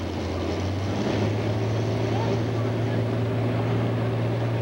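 Super stock pulling tractor with major engine changes running at a 1997 Nebraska State Fair tractor pull, a loud steady droning roar held throughout, with an announcer's voice over it.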